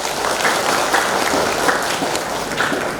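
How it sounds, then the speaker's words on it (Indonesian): Steady applause from a seated crowd at a nursing academy graduation ceremony in Lhokseumawe, a dense even patter of many hands clapping at once without a break. "Tepuk tangan."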